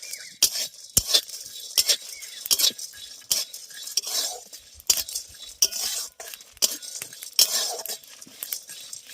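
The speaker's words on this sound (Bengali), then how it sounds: "এবার ধনে জিরে শুকনো লঙ্কা সেই চিনে বাদাম আর ছোলার ডালটার সঙ্গে ভেজে নেব" Dry coriander, cumin, dried chili, peanuts and chana dal being roasted without oil in a pan, with a utensil stirring them in a steady, irregular run of close scraping and clinking, light rattling from the spices and no voices.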